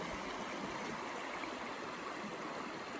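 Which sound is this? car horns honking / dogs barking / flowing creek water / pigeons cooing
flowing creek water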